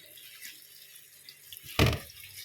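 Bougainvillea flowers washed in water: quiet trickling and dripping with faint background hiss, then a brief louder splash near the end.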